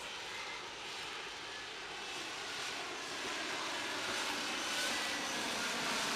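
An F-35B stealth fighter jet roars in a steady, broadband engine rush that swells slightly louder as it continues, with no voices over it.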